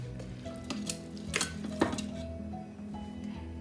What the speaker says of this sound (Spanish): Mira, voy a echar el pollo.